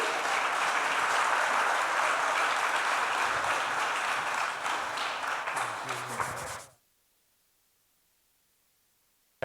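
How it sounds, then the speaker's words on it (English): Crowd at a business and education hub event applauds to welcome a speaker to the stage, loud sustained clapping that cuts off abruptly into silence. "if you all help me with a big round of applause to welcome up Razor"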